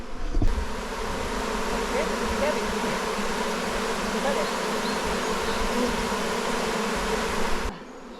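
A dense, continuous buzzing of many honeybees swarming close by, steady and loud for several seconds.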